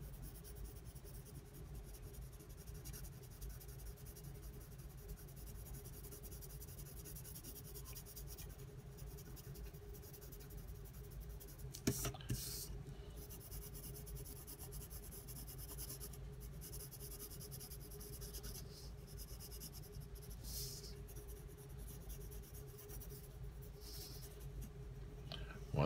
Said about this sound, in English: We're going to put just a little more pressure on our pencil.